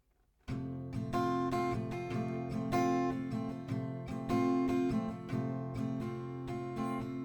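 Steady acoustic guitar strumming in a repeating down-up rhythm, bright and close, with chords ringing continuously and no voices.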